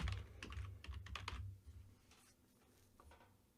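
Quick, faint clusters of keystrokes clatter on a computer keyboard as code is typed, a brief flurry followed by a few scattered taps in a quiet room.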